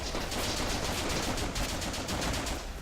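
Gunfire in the video game The Legend of Alfur, heard as a dense, rapid stream of shots that runs without a break for about three seconds, loud and close, with no voices.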